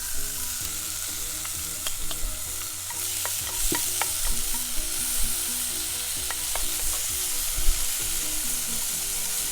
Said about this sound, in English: so now we just stir it